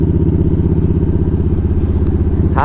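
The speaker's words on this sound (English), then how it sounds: "It's got a great V-twin sound." A Victory touring motorcycle's V-twin engine runs close and loud with a steady, throbbing lumpy idle, nothing else heard over it.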